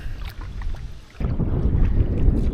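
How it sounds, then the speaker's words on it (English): A canoe paddled across a windy wilderness lake with whitecaps, sounding as steady wind rumble and water wash against the hull that swell louder and rougher partway through, with no one talking. "We're going to paddle to the east side of the lake and then let the wind hopefully push us up the shore"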